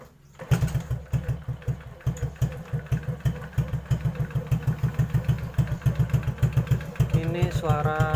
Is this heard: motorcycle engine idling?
yes